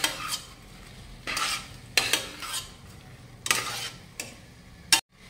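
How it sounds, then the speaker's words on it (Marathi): A spoon stirs salt into barnyard millet (varai) in a pot, making several scraping sweeps with gritty rustles in a loose rhythm, close by, and a final sharp knock against the rim. "आता हे सगळं व्यवस्थित मिक्स करून घेऊयात।"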